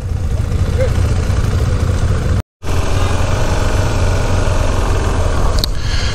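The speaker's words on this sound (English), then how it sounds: "This exercise is another braking lesson where we're using the front brake and the rear brake to stop the motorcycle without using too much pressure." KTM 390 Adventure motorcycle engine running steadily at a low, even idle-like drone during a front- and rear-brake stopping exercise, close and continuous apart from one brief dropout.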